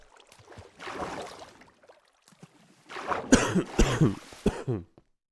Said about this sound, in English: I'm pretty sure it just coughed into my mic